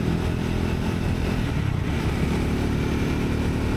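Triumph Scrambler 400X single-cylinder motorcycle engine running at steady speed, a loud, continuous low drone with wind rush, no talking.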